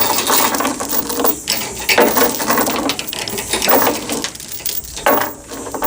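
A ratchet chain binder cranked tight on a load chain securing a John Deere 50G excavator, giving a steady run of loud, close metallic clicks and grinding ratchet strokes with no speech.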